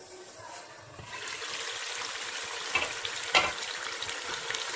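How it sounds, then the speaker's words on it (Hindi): Masala roasting (bhuna) in a pan for a fish kofta curry, a steady close sizzle and frying hiss with stirring scrapes, getting louder after the first second and continuing without talk. "मसाला भूनते हैं मुझे 3 से 4 मिनट हो गए हैं"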